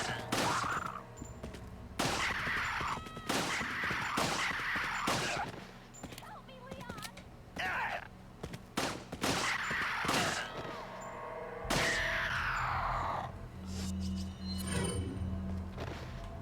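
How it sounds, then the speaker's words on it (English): Rapid gunfire from the video game Resident Evil 4 on Professional mode, loud repeated shots in bursts with crashing impacts, broken by short pauses, with a voice talking in the game mix. "Professional mode nonsense shooting."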